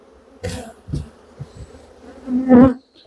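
Honey bees buzzing loudly in an open colony being inspected, with individual bees zipping close past the microphone in several distinct swells and one strong near pass near the end.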